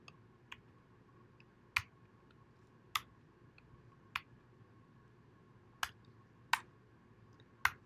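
Sparse, sharp clicks of individual keystrokes on a computer keyboard, spaced irregularly about a second apart against a quiet background hum.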